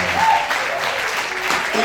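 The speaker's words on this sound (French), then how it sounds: "je peux demander au public d'applaudir encore une fois pour toi." Audience applause for a guitarist at a guitar competition final, a short burst of steady, fairly loud clapping with some voices mixed in.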